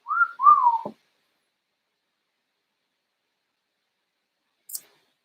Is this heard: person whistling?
yes